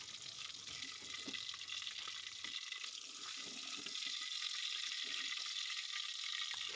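Pieces of katla fish fry in mustard oil in a kadai, producing a steady, bright sizzling hiss that continues unbroken, with faint scrapes as the pieces are turned.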